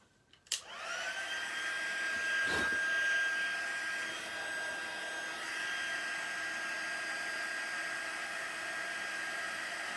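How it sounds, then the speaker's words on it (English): A heat gun switches on with a click and then blows a steady, loud whine and whoosh over embossing powder on a craft card, running continuously for nearly ten seconds. "so again with the heat gun"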